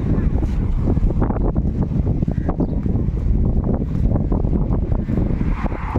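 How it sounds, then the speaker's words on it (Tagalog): Strong wind buffets the microphone at Jubail Park in heavy, continuous rumbling gusts, loud and close throughout. "Lakas ng hangin."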